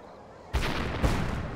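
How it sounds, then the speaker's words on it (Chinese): Explosives blasting a city gate during fighting between Duan Qirui's anti-restoration troops and Zhang Xun's pigtail army around Beijing: a sudden heavy boom sets off a sustained roaring rumble, and a second blast follows about half a second later. "可能是讨逆军在用炸药炸城门"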